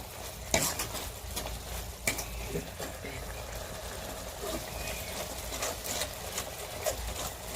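Vegetables for a bottle gourd vada mixture with fresh coriander cook in a pan, giving a steady close sizzle with repeated scraping stirs and occasional spoon knocks against the pan; a voice is heard faintly in the background.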